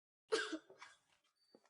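A girl with a cough gives one short, fairly close burst, a harsh first cough and a softer follow-up, then a few faint breathy sounds.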